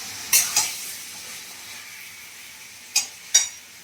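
Fish head is stir-fried with ginger and garlic in a pan, a soft steady sizzle broken by a few sharp clinks and scrapes of the spatula against the pan, close and with no talking.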